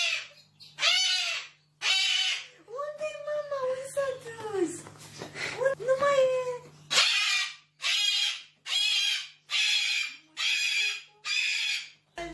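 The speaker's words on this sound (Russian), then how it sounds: "Попугай бегал с истошными криками ровно до тех пор, пока он снова не увидел фокусника" A cockatoo parrot screams in fright in repeated harsh, drawn-out bursts, close and loud, with a few rising and falling wavering calls and a steady hum underneath.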